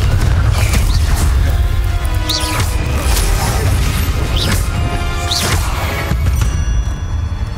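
Confringo blast spell in Hogwarts Legacy combat, heavy repeated explosive booms and crashes over a dense rumbling game soundtrack, loud and continuous with whooshing bursts.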